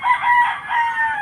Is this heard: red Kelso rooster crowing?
yes